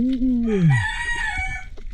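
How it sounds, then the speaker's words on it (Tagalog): A rooster crows once, close and loud, its call rising then falling in a long drawn-out cock-a-doodle with faint background noise. "Hamal ka man ang manok ka. Nakakagulat ka."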